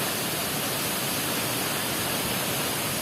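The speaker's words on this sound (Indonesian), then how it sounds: "Mantap, air terjun Semantung." Semantung waterfall, a dense constant roar of falling water, loud and close and unbroken, with no voices over it.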